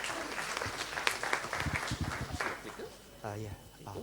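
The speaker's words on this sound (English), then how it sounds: "can we please have a round of applause to welcome Dr." Audience applause welcomes a speaker at a health hackathon opening day in Singapore, a crowd clapping in a hall with overlapping talk from a voice on a microphone.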